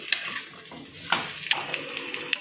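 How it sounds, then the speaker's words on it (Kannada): Frying in oil in a pan while cooking village-style egg and chicken bassaru: a soft, steady sizzle with occasional sharp clinks of a utensil stirring against the pan, close up and without speech. "ನೋಡಿ ಇದು ಈ ಫ್ರೈ ಆಗ್ತಾಯಿದೆ"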